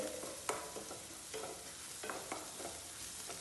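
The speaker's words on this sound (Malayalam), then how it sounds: "സവാള ഇങ്ങനെ ചോന്ന് വരുന്നുണ്ട്" Sliced onions fry and brown in a pan for a mixed vegetable curry, giving a steady, moderately quiet sizzle broken by a few sharp stirring clicks and scrapes, with no talking.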